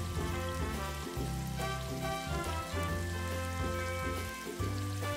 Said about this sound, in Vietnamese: Sau khi dầu sôi mình sẽ tiến hành thả cái phần tôm viên khoai tây vào và chiên vàng đều lên.